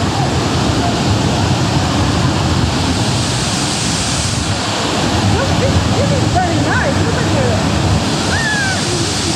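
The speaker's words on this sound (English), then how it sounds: "Big, beautiful waterfall." The waterfall at Trail Canyon Falls gives off a constant, full-bodied roar of rushing water, loud and unbroken throughout.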